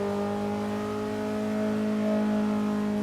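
A car accelerating hard around the Ring, its engine note climbing in a loud, sustained, rising whine with strong harmonics, close and continuous over three seconds, with no talking.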